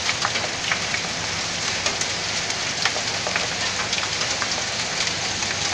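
Hailstones fall in Limassol, Cyprus, making a dense, steady hiss of impacts with scattered sharper clicks and pings throughout, with no talking.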